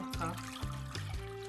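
Water pours into a cooking pot to boil fonio, two cups for one cup of grain, a short close trickling stream running alone for about a second and a half.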